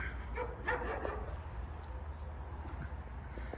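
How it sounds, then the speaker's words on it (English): A neighbor's dog barking outdoors at some distance, a few sharp barks early on followed by quieter ambience with birds cooing in the background. "the neighbor dog wants his time on camera too"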